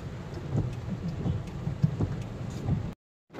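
Rain patters steadily with soft, scattered drops tapping a surface, heard from inside, before the sound drops out to silence.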